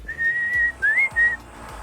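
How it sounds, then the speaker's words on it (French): A roofer's signal whistle, the call roofers send to each other across rooftops, comes as a clear human whistle in three phrases: a long steady tone, then a short rising one, then a brief steady note, alone with no talk. "les couvreurs, dès qu'on voit d'autres couvreurs sur un toit, on se siffle"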